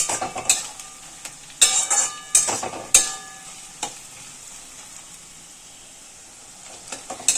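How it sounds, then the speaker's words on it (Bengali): Chopped garlic and onion fry gently in oil for a prawn curry. A soft sizzle runs beneath sharp clinks and scrapes of a metal spatula against the pan, with no talk. "এবার এটা আমরা আস্তে আস্তে ভাজবো রসুনটা"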